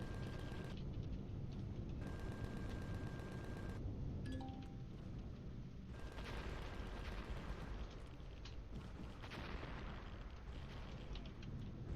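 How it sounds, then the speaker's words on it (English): Meteor shower impacts in the space survival game Empyrion Reforged Eden rumble as a continuous barrage of deep booms and bursts, loud and dense throughout, with short tonal game beeps cutting in now and then. "Oh, meteor showers. That's what I'm hearing."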